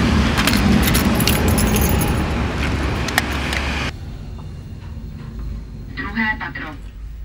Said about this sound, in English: Okay, the keys will be in here.